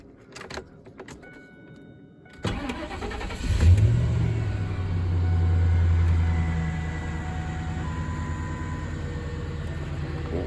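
A 1998 Ford F150 pickup with new spark plugs cranks with a loud burst, catches and settles into a steady, close low idle that rumbles on to the end, with a few faint clicks and rattles before the start.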